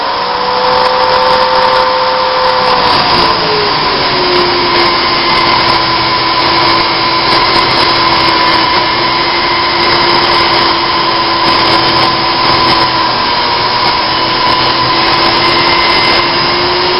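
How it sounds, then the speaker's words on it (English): An angle grinder cuts through steel stock for knifemaking, a loud, continuous high-pitched whine with a steady grinding rasp that drops in pitch slightly early on, then holds for the whole stretch with no talking. "That way I can turn on and off the angle grinder with the big thick gloves that I have"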